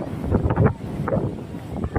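Strong cyclone wind buffets the microphone in uneven gusts, a loud rough roar that swells and dips over a couple of seconds.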